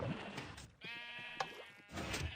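Sheep bleat on a sheep farm in Minecraft, a few wavering calls close by, one long bleat in the middle and shorter ones at each end.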